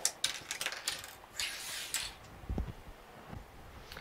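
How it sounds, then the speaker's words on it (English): Sewing clips are pulled off a fabric notebook insert, making a quick series of small plastic clicks and snaps, close up and fairly quiet, with no voices. "I'm going to pull all of my clips off."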